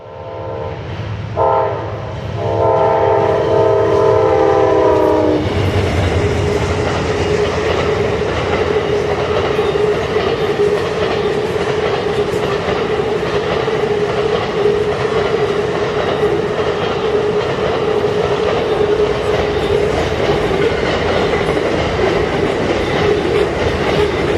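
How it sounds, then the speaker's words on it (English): Amtrak 53, the southbound Auto Train, rolls past close and loud, opening with a long blaring multi-tone horn blast before a sustained roar of wheels and cars fills the rest of the pass. "First train of the morning is a late Amtrak 53, the southbound auto train."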